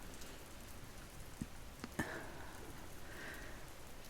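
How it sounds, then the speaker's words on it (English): Light drizzling rain patters steadily on a surface, a soft, even wash of drops with a couple of slightly louder single drips, quiet and close with no voices. "it's been drizzling rain"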